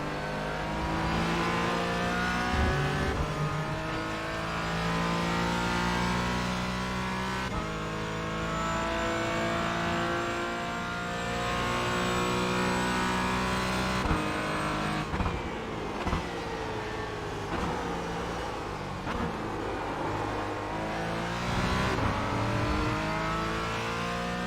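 A Porsche race car lapping in the iRacing simulator, its engine wailing loudly through repeated upshifts and downshifts, pitch rising and falling continuously over the lap with faint tire noise.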